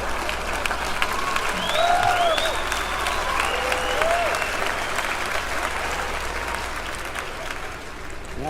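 Audience applause at a stand-up comedy show, a dense, steady round of clapping that fills the room for several seconds with a few scattered whoops and cheers on top.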